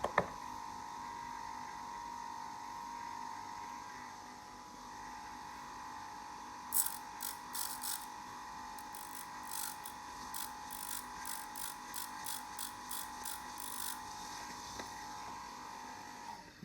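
A bench grinder spinning at 3000 rpm after switch-on gives a steady, close motor whine and hum throughout. Short rattling clicks come in the second half. No one speaks.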